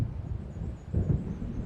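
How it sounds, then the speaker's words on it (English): Thunder from an approaching storm in the video game Alan Wake rolls as a low, deep rumble, swelling briefly a second in, alone and fairly close. "It seems there's a storm coming."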